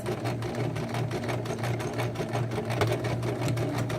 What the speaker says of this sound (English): take a couple of stitches, reverse